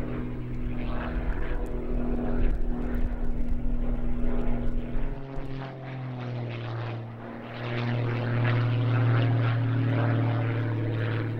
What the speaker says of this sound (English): It was a stunt plane flying right over the refuge.